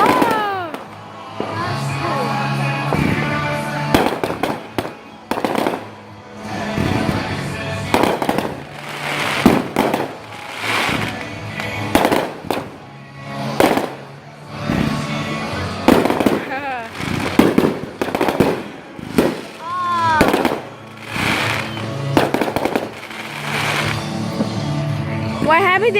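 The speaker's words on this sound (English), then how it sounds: "They do like tests with fireworks." Fourth of July fireworks bursting in repeated loud bangs and crackles over about half a minute, with people talking and exclaiming between the explosions.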